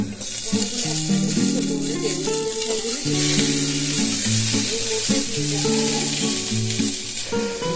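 Onion and tomato sizzle and fry in hot oil in a pan while cooking khichuri, a steady loud crackle running throughout with a stirring rhythm and background music-like tones, no talk.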